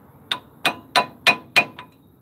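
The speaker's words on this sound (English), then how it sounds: "now use your hammer to tap it down and in" A ball-peen hammer taps a disc brake part into place during a brake job: five evenly spaced, bright metallic clangs about a third of a second apart, followed by a lighter sixth tap, close and clear with no talk.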